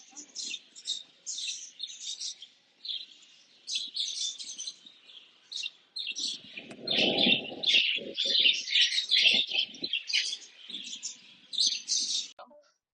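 Caged birds in a pet shop chirp and tweet in rapid bursts throughout, with a lower cooing or rustling stretch in the middle, close and lively, while people talk faintly in the background.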